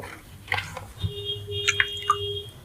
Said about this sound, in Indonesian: langsung kita lakukan penyiraman ya